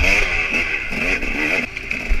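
A motorcycle engine revs and strains continuously while riding a muddy trail at a fence-lined off-road race, loud and close with a whooping rider voice over it.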